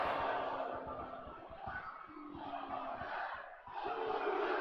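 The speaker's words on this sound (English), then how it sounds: "The crowd, the sadistic crowd, is chanting one more time." A video-game wrestling crowd in WWE 2K24 swells and dips in rhythmic chanting waves during an Elimination Chamber women's match, loud and dense with a few brief gaps.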